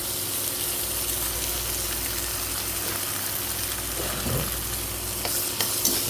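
Egg being stirred into sizzling fried rice with bitter gourd (ampalaya) in a hot pan, a steady loud frying hiss with scraping stir strokes near the end.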